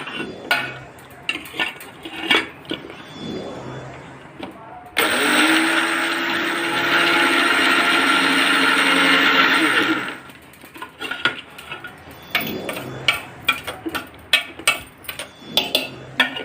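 A mixer grinder whirs loudly and steadily for about five seconds as it grinds Oreo biscuits with sugar, starting and stopping abruptly, with kitchen clatter and handling noises before and after.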